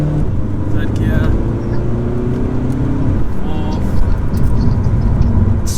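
Remapped Audi A3 2.0 TDI diesel with a DSG gearbox accelerating through the gears while overtaking, a loud continuous drone with rising engine pitch heard from inside the car, with a voice talking over it.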